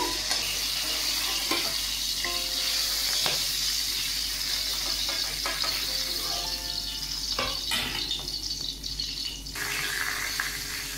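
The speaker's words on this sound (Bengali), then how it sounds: "আমি এইভাবে মাছ ভেজে নিচ্ছি।" Boal fish pieces fry in oil with a loud, constant close-up sizzle, broken by occasional clinks and scrapes of a spatula against the pan, no voices.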